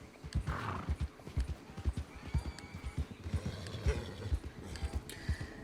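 Horse hooves clip-clopping steadily in the Red Dead Redemption 2 video game, with a whinny near the start.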